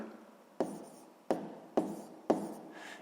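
A pen writing a math solution on paper, four distinct scratchy strokes in a slow rhythm, close and quiet with near silence between them.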